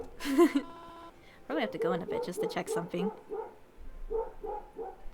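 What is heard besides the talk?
dog barking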